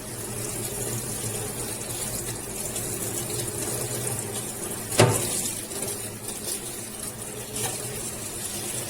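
Water runs steadily from a tap while motorcycle parts are washed indoors in a bathroom, a constant faint gush with one sharp knock midway.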